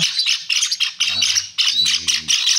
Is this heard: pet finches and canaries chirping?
yes